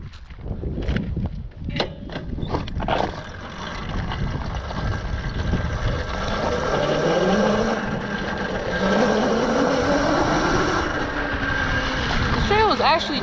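A Tuttio electric dirt bike rides over rocky, mostly flat trails. Its motor whines steadily and rises in pitch under heavy wind buffeting and rattling from the rough ground, with a voice heard briefly near the start.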